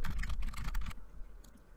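Rapid keystrokes on a computer keyboard as an email address is entered, a dense burst of clicks for about a second followed by a few sparse, quieter taps.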